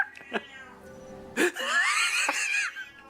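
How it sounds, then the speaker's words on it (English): An angry cat yowls and grumbles, starting with faint whining cries, then giving a loud, drawn-out wavering howl up close, while quiet background sounds from a game are heard. "He's 14 pounds of just angry cat"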